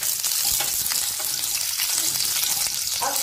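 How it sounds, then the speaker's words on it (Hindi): Mustard seeds, curry leaves and green chili sizzle hard in hot oil while raw mango rice is cooked, a dense steady crackle with a few sharper pops near the end. "मस्टर्ड सीड्स हमारी फूटने लगी है, इसमें डालेंगे हम कड़ी पत्ते और इसके अंदर जाएगा ये ग्रीन चिली"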